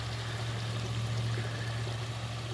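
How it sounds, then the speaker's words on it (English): Small waterfall on a creek outdoors, a steady, fairly faint rushing and pouring of water that runs unbroken from start to finish, with a constant low hum beneath and no voices. "that's a really cool little waterfall there"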